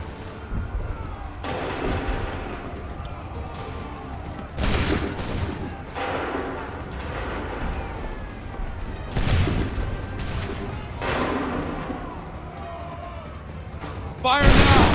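Musket volleys from a line of soldiers in Assassin's Creed 3, booming out in a few separate broadside bursts with shouted commands and battle ambience rumbling between them.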